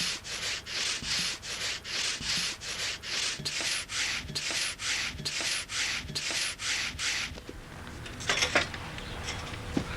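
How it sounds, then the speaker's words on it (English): A hollow tooth hand saw cuts through a tree trunk in a traditional German sawmill, with steady rhythmic rasping strokes, about two per second, close and clear, before the sawing breaks off into a few scattered knocks. "the craftsmen use a specialized hollow tooth saw"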